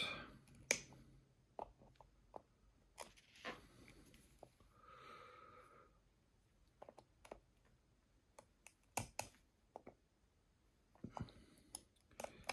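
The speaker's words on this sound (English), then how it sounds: "use these clippers to trim off what's left of these little ears" Clippers snip off brittle plastic ears from a Garmin mount, giving sharp, isolated clicks and snaps spaced irregularly across a quiet background, close to the listener.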